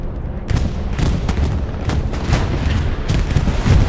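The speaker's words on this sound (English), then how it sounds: "Phoenix is dropping a bombing run" Explosions from an aerial bombing run in the World War II shooter Hell Let Loose come as a rapid series of deep booms and cracks, loud and close, with rumbling tails overlapping across the whole stretch.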